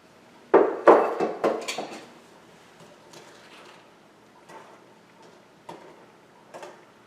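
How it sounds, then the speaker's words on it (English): A spoon stirring oatmeal cookie dough in a bowl, with a few sharp clinks and scrapes at first and then quieter, spaced taps, close up with no talk. "And stir it up."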